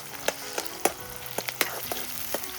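Onions frying in hot oil in a pan over an outdoor village fire, a steady sizzle punctuated by sharp crackles and pops, with no talking.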